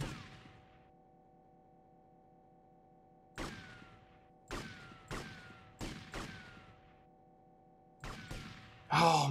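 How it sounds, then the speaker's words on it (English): Separate pistol-like shots at a shooting range in GTA Vice City ring out one at a time with sharp cracks and short echoing tails, about seven shots at irregular intervals over a steady low background hum. "I'm fucking shooting bad"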